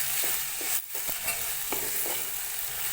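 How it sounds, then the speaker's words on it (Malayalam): A spoon stirs vegetable thoran in a pan, scraping and tapping in short strokes over a soft, steady sizzle. There is no talk. "നല്ലതുപോലെ ഇളക്കി കൊടുക്കണം കേട്ടോ"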